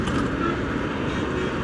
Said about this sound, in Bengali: এইসব লোকাল বাসগুলো যে এত জোরে যায়